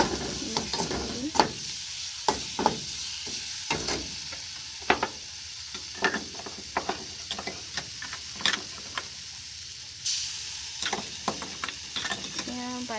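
Jackfruit seeds being stir-fried in a pan, a steady sizzle broken by repeated sharp scrapes and taps of a spatula against the metal, close and fairly loud.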